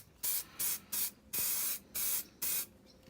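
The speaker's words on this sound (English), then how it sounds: "liberal spraying, making sure that I get all the angles" A spray can of primer hisses in a series of short, even bursts, seven or so quick sprays separated by small gaps, close by.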